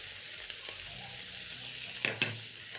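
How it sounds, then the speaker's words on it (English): Minced meat with cornstarch and red capsicum sizzles softly in a pan while a spatula stirs it, making a steady low frying hiss broken by a couple of brief scrapes. "Using my spatula, I'm going to stir in the meat together with the cornstarch and the red capsicum."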